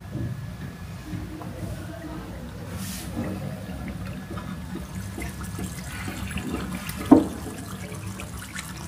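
A pot of coffee bubbles on a small stove, a soft continuous gurgling simmer with one brief louder pop near the end.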